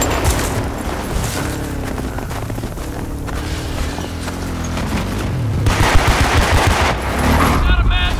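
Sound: gunfire from a video game

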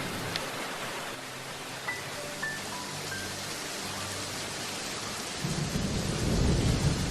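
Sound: thunderstorm with heavy rain

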